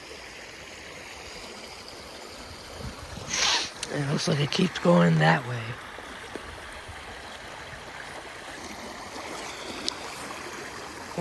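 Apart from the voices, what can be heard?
water flowing through small stream rapids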